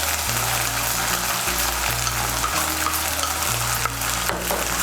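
Tomato paste being stirred and fried together with ginger-garlic paste and chilli paste in a pan, a steady close sizzle under continuous background music with no talking.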